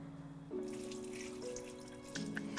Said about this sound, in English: when you rinse it, like with the dal, you're going to rinse it a few times before it gets clear